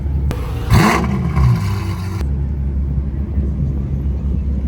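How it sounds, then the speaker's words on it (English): Ferrari 812 Stallone by Mansory, built on the 812 GTS, revs its engine at a Dubai car event in a loud rising-and-falling burst of about two seconds, then drops back to a low rumble over background crowd noise. "This is the Ferrari 812 Stallone by Mansory and it's based on the 812 GTS."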